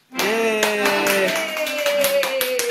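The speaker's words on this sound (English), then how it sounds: "Can you clap, buddy? Clap, clap, clap, yay!" A small child clapping hands at home, a series of quick, close, sharp claps in an uneven rhythm over a sustained sung or voiced tone.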